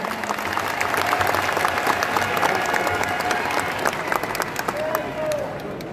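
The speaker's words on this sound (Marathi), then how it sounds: "मला असं वाटतं की याच्यासाठी जरा अधिक टाळ्या वाजल्या पाहिजेत" Audience applause at a BJP political event in a pandal in Maharashtra: steady, dense clapping from a large crowd that stays loud for the full six seconds, with a voice speaking over it.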